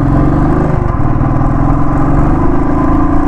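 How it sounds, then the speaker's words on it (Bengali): A motorcycle climbs a hill road in Purulia's Ajodhya hills, its engine droning loud and steady with a close, continuous mid-pitched rumble and no talk. "এইবারই আসল মজা এই রোডের বাইক চালানোর।"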